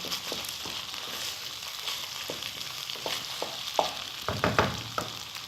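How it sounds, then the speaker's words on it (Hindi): Minced keema with whole spices roasting in a pan over high heat, a low steady sizzle broken by repeated clinks and scrapes of a spoon stirring the meat, growing busier toward the end. "बस हमने 3-4 मिनट और इसको ऐसे भूनना है"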